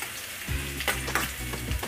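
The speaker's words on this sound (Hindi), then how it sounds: "तड़का खूब अच्छे से हमें हाई फ्लेम पर तेज करना है" Onions frying in hot oil on a high flame for a bhindi gosht tadka, a loud continuous sizzle with a few stirring scrapes and clatters, no voices.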